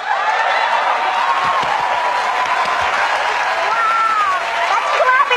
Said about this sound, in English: that's clapping a lot